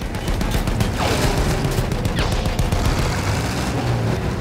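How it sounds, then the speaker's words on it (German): Battlefield 1 gunfire with field guns, a dense continuous barrage of overlapping shots and booming blasts throughout, with a couple of rising whistling streaks cutting through the din. "Diese Feldgeschütze zerlegen unsere Einheit."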